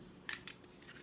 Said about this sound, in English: Fold this over and give yourself a nice big staple right in here,